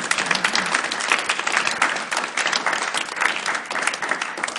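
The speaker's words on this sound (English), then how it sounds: "Last round of applause" Audience applauding at the end of a talk on hydropower, close, lively clapping that continues evenly throughout, with no voices over it.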